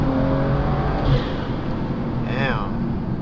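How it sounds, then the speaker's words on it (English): A Stage 2+ turbocharged BMW 340i accelerates on a mountain canyon road, its engine note droning steadily from inside the car with rising whine as it pulls. "that turbo sounds crazy"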